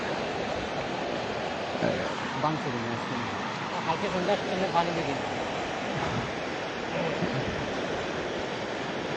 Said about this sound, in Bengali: ঠিক সেই জায়গায় হয়তো পানির গর্জন আপনারা শুনতে পাচ্ছেন